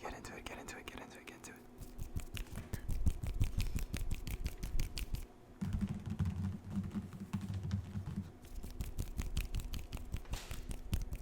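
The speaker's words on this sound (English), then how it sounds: "I don't know if you guys can hear me tapping on the paper" Soft ASMR tapping on paper notes about electrical engineering: rapid, close, fairly quiet finger taps in irregular bursts, with quiet whispered speech alongside and a short pause partway through.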